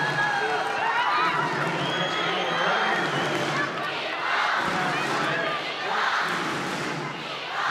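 A large crowd at a Japan versus Netherlands volleyball match chants Nippon, a loud, steady roar of rhythmic voices that fills the hall throughout.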